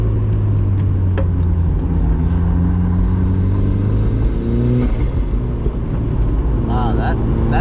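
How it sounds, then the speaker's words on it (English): A turbocharged first-generation Mazda Miata engine on a race track, a loud steady droning roar with shifting pitch as it pulls through a corner, heard from inside the car with voices over it. "Wow, that turbo sound is so good."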